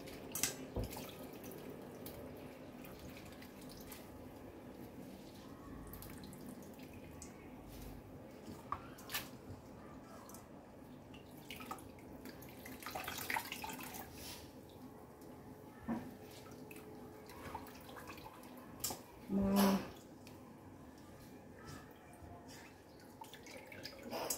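Banana blossoms are washed and squeezed in water, giving faint, scattered drips, trickles and soft wet squishes with a brief louder splash near the end, mostly quiet and close with occasional speech.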